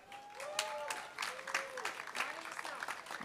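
Audience applause at a school graduation event in Riga, a crowd clapping steadily for about three seconds after an announcement, with bright whistle-like tones gliding over the clapping.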